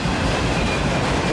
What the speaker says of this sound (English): That's a long autorack.